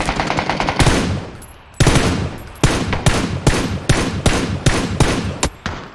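Rapid automatic gunfire from the video game PUBG, bullets striking sand, fires in repeated sharp bursts: a long rattling volley, a short pause, then several loud clustered bursts close by, with no talking.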